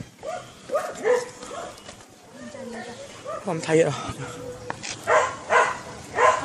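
A dog barks in a few short bursts outdoors on a street walk, heard amid people chatting nearby, with the barks coming close together toward the end.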